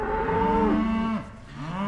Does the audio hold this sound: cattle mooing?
yes